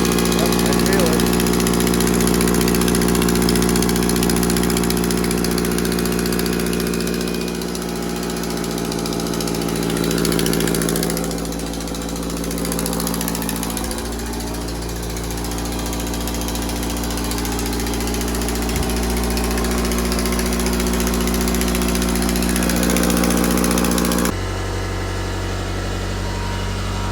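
A 1998 Talon's engine idling steadily up close, a continuous low rumble with a ticking, puffing exhaust leak and a stuck valve, a brief shift in tone near the end.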